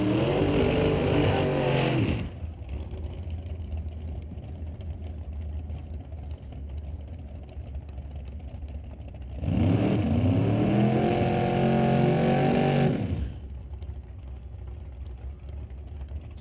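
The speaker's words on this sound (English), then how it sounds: "Emily Gerard coming back around in the black dragster." A black dragster roars past twice at a drag racing qualifying event, loud engine blasts rising and falling with a steady lower engine drone between passes, heard without talk.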